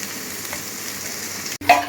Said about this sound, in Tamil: நல்லா வதக்கி எடுத்துக்கலாம்